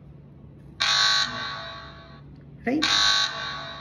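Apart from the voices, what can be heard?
fire alarm buzzer from Arduino fire detector app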